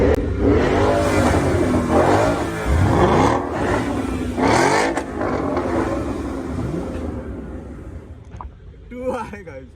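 A car engine at a busy car meet among Mustangs, RS and AMG models roars through several hard revs, rising and falling over a noisy crowd. Voices talk throughout and the engine fades toward the end.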